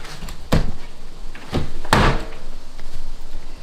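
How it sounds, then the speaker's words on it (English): A porch screen door is opened and shut several times, giving sharp wooden knocks and a rattling slam around two seconds, with light creaks and handling between, close and loud. "over here, screen door, screen porch"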